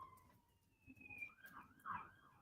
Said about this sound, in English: Oh, here's sirens going on.